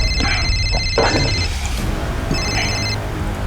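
A telephone rings in short repeated electronic bursts, two clear rings separated by a pause, over a low background hum in an indoor scene.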